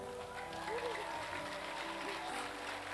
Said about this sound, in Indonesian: Beri aplaus buat ibunya